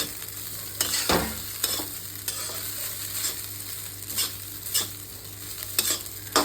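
Egg fried rice is stir-fried in a pan: a spatula scrapes and tosses in repeated strokes over a steady sizzle, close up with no talking.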